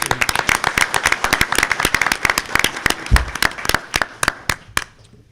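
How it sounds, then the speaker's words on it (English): An audience at a school board of education meeting claps in a sustained round of applause, the sharp, dense claps fairly close and continuing for several seconds before thinning out. "So how about a round of applause for Taylor and Logan,"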